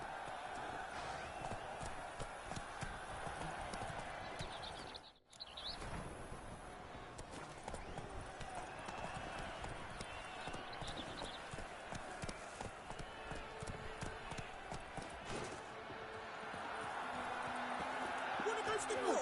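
Continuous hoofbeats of a galloping horse in The Witcher 3 carry on for the whole stretch, dense and steady, with one brief dropout early on and the rhythm building slightly louder toward the end.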